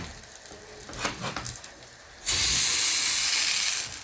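A few light clatters give way to a sudden loud, steady sizzling hiss of pizza bubbling and frying hot in a stovetop pan, continuing to the end.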